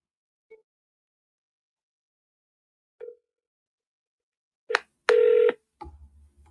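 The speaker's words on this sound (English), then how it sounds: "let me know if you guys can hear that phone ring" Touch-tone keypad beeps from a phone dialing out on a real estate wholesaling call: a few short isolated tones spaced apart, then two quick tones with one longer, louder tone, and no talking.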